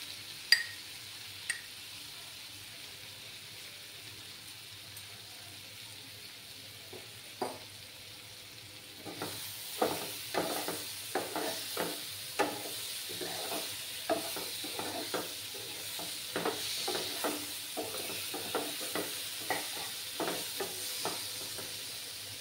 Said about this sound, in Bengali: দিয়ে ভালো করে কষিয়ে নিতে হবে। আমি পরিমাণ মতো নুন দিয়ে দেব।